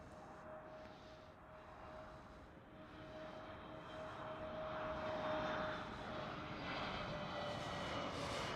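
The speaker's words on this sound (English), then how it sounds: "With an A320NEO. Lots of Neos these days." An Airbus A320neo jet airliner at Schiphol Airport gives a steady, broad engine roar with a thin whine running through it, building slowly louder toward the middle before levelling off. No one speaks.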